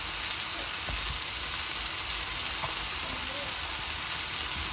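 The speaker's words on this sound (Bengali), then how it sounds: "একটু পেঁয়াজ এবং বেল পেপার দিয়ে দেবো সাইড থেকে" Onion and bell pepper sizzle in a pan beside a tuna steak, an even, dense frying hiss that runs unbroken throughout, with only a few faint clicks beneath it.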